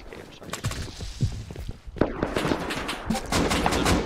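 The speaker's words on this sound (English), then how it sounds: "I'm using explosive ammo with this AK for some reason." An AK firing explosive ammunition in the survival game Rust, rapid bursts of loud gunfire with sharp impact pops, close and hectic, under a player's talk.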